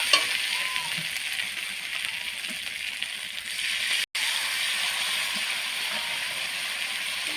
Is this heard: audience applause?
no